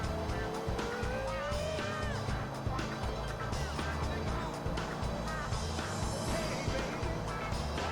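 A car in Grand Theft Auto IV races at high speed, its engine roaring loudly and steadily with tires squealing through turns, continuous and close throughout.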